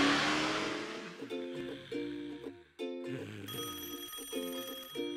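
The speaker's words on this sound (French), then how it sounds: "Le téléphone sonne." Telephone ringing in a children's cartoon, a bright electronic ring in repeated bursts with short gaps, loud and close, over a light music and sound-effect bed with no talking.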